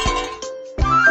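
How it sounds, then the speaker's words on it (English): A cowbell effect from a Mickey Mouse Clubhouse video game rings out as two bright metallic clanks with a gap between them, the second sustaining to the end, alone and fairly loud. "A cowbell sounds like this."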